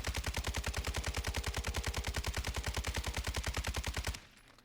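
RPK machine gun in a video game emptying a full magazine in one sustained automatic burst, rapid evenly spaced loud shots for about four seconds before cutting off abruptly.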